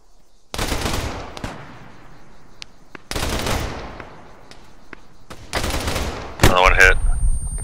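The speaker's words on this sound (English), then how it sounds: "Oh, my machine gunner's working on him." Machine gun fire in Arma 3, three sustained bursts separated by pauses with echoing tails, ending in a louder, closer volley over faint background noise.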